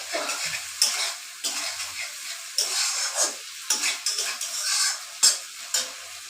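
Okra being fried and stirred in a pan for a dry fish recipe, with a steady broadband sizzle and irregular scraping strokes of a utensil against the pan, close and moderately loud, no talking.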